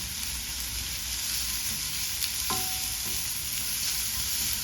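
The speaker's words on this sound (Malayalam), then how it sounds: "അതിലേക്ക് ഒരു വലിയ സവോള ഇട്ട് കൊടുക്കാം പിന്നെ ഒരു പച്ചമുളക് ചെറുതായി എറിഞ്ഞത് പിന്നെ ഒരു ചെറിയ കഷ്ണം ഇഞ്ചി ഇട്ട് കൊടുത്ത് ഒന്ന് വഴറ്റാം" Onion, green chili and ginger sauté with cumin in a pan, giving a loud, continuous close sizzle with a short ringing clink midway.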